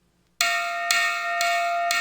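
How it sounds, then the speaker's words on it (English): A handheld bell rung loudly in the 1994 video game The Riddle of the Maze, struck four times in a steady rhythm with bright sustained ringing tones after a brief quiet start. "I quickly picked up the bell, ringing it loudly"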